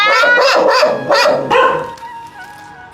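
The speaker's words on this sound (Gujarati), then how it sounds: "અમે આ ડોગ ને છે ને ખાવા આપીએ છીએ" A dog barks several times in quick succession, close and loud, the barks fading into softer yelps and whimpers toward the end, at a place where stray dogs are fed and cared for.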